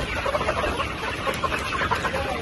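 Sonali chickens and roosters on a poultry farm cluck continuously in a busy, close flock chorus, steady throughout with no talk.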